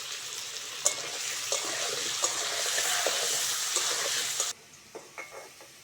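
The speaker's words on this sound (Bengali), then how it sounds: "মাছের তেলের মধ্যে কেটে ধুয়ে রাখা আলুটা দিয়ে ভেজে নেব অল্প করে হলুদ দিয়ে দেব" Cut potatoes fry in leftover fish oil with turmeric, giving off a loud, steady sizzle that cuts off abruptly near the end, leaving a few soft clinks and taps of utensils.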